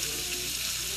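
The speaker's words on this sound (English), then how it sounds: "So what I'm going to do is just continue sauteing" Chicken sautéing in a pan with avocado oil, olive oil and butter, giving a steady, close, loud sizzle without a break.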